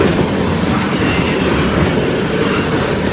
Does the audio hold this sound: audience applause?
no